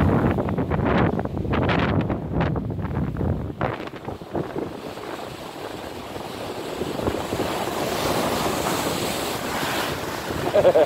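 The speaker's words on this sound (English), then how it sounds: "These waves are enormous." Large ocean waves crash and surge against a reef off the Azores coast, a loud continuous roar of surf with heavy wind buffeting the microphone, rising and falling throughout.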